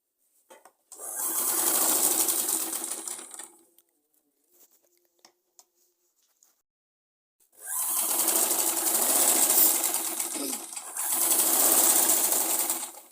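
A sewing machine stitches a Punjabi suit in two long bursts of steady, close mechanical whirring, separated by a quiet pause with faint handling clicks.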